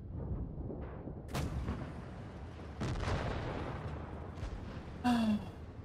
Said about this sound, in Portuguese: Esse canhão.